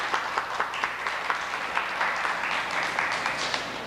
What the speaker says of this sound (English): Let's give Craig a round of applause